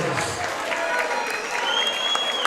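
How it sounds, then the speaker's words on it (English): A crowd at a hybrid boxing league bout applauds and cheers both boxers after the final round, a loud, continuous wash of clapping with a few whistles rising above it. "please have a big round of applause for both of our boxers"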